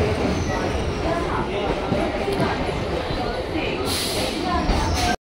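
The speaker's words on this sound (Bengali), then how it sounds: "এই যে আমাদের ট্রেন ঢুকলো লক্ষ্মীকান্তপুরে স্টেশনে।" A local train pulling into platform 1 at Lakshmikantapur station, its steady broad rumble and rattle filling the whole stretch at close range before cutting off abruptly.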